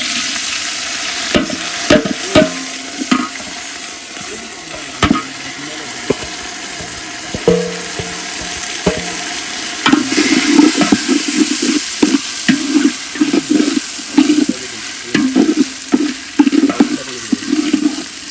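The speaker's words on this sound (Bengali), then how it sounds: "দিয়ে দেবো গরম মশলা, তেজপাতা, চালটি দিয়ে দেবো, ভেজে নেবো চালটা" Rice frying in a pan with garam masala and bay leaves for Bashonti polao gives a steady close sizzle, broken by repeated scraping stir strokes that grow busier and louder partway through.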